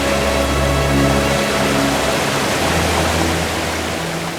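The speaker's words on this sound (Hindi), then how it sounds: "तो झरना देख रहे हैं ना?" A waterfall near Rishikesh roars continuously with a broad, loud rush of falling water, steady throughout and close, with no voices over it.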